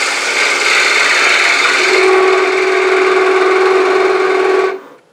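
A wood lathe parts off a scrap spindle, a loud continuous cutting roar with a steady whine that rises partway through, then cuts out abruptly near the end as the piece separates.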